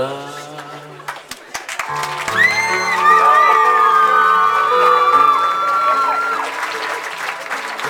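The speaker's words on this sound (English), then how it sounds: "keep your applause going, Mr. and Mrs. Timothy Coakley" Guests at a wedding reception at Wachusett Village Inn in Massachusetts clap and cheer for the newlyweds, loud sustained applause with whoops and shouts rising over fading music, a close, lively crowd.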